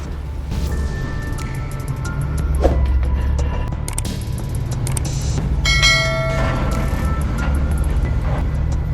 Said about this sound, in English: the train zoomed past so close